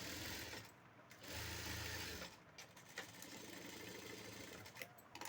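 A sewing machine stitches piping onto a lined blouse in quiet, close bursts of rapid needle chatter, stopping and starting several times with short pauses between runs.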